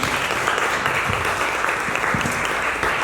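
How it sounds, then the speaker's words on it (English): An audience at a postpartum wellness conference applauds a presenter with steady, dense clapping that fills the whole stretch at an even level, with no speech over it. "give a round of applause for Rickie"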